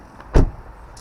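A short electric motor whirr from a power-adjusted seat in a Volvo with a 2.5 turbo 210 hp engine, one brief burst about a third of a second long, fairly close and alone.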